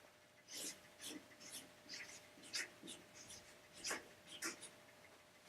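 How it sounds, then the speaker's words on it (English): Pen strokes scratch across a surface in short, repeated bursts of writing, faint and close, with quiet pauses between strokes. "let me write this down"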